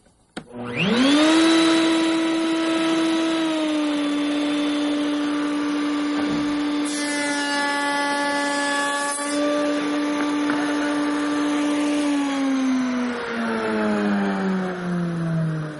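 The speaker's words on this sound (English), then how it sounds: "There's the cope cut we're making." A hand router spins up and cuts a cope profile on a clamped wood piece, a loud steady high-pitched whine with a brief shift mid-cut, winding down at the end.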